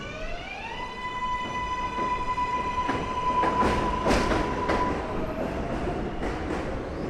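A New York City 7 line subway train passes close by, a loud sustained roar with a strong tonal whine gliding up at the start and rhythmic clattering bursts as the cars go by, no voices present.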